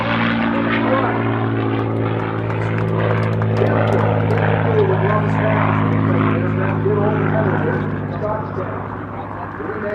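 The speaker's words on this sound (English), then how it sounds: "the P-51 he calls Quicksilver" A P-51 Mustang named Quicksilver flies a display at an air show, its propeller engine droning loud and steady overhead before easing slightly. An announcer talks over it throughout.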